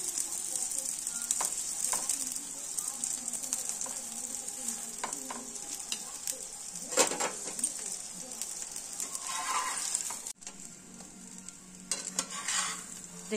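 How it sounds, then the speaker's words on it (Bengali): Vegetable paratha fries in an oiled pan over a gas flame, a steady bright sizzle running throughout with scattered clinks and scrapes of stirring and a brief dip near the end. "আমি এক এক করে সব ভেজে নিয়েছি, আমার সব ভাজা শেষ হয়ে গেছে।"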